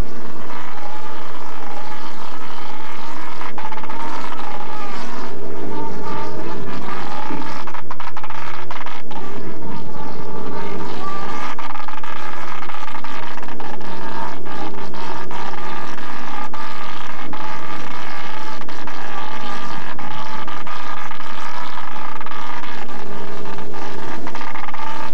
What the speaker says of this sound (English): hear the sound of rope in the hauler